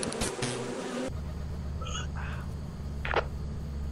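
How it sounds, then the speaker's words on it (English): An angry bee swarm in the video game Lethal Company makes a continuous low droning buzz under faint voices, with a brief burst of noise at the start and a short rising tone later. "I led him into a swarm of angry bees"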